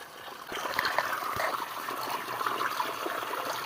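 Spring water trickles and gurgles in a steady, close, fairly quiet flow, with a small splash near the start.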